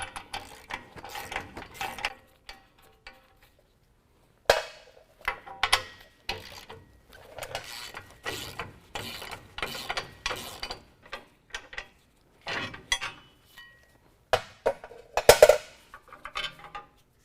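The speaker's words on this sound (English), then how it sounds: "now we can use a 21mm to remove our last 2 nuts that are holding on our bracket." A ratchet with a 21mm socket loosening front bumper bracket nuts on a 2015 Ford F-150 clicks in quick repeated bursts, each run of ratcheting separated by brief pauses, close and clear.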